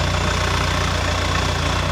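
Steady, loud engine drone of a train rolling through a market in Bangkok, Thailand, a constant low rumble with no breaks and no talk.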